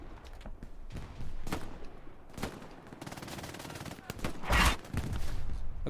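Gunfire in the video game Hell Let Loose on Omaha Beach: scattered rifle and automatic bursts, some sharp and close and others farther off, with voices talking over the shooting.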